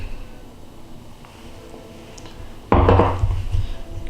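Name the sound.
mixing melted butter and egg in a bowl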